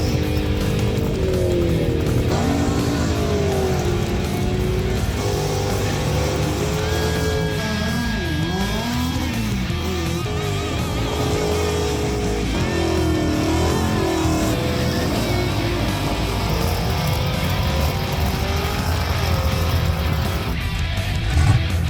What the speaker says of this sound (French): on entend les moteurs gueuler toutes les 2 secondes.